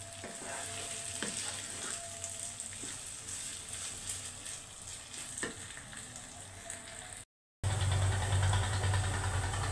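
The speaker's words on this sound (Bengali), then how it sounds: "এজন্য চালটাকে অনেক সুন্দর মতো ভাজতে হবে" Rice fries in a pan for pulao with a close, steady sizzle and occasional scraping stirs. After a brief silent cut, a louder, rumbling stretch of cooking noise follows.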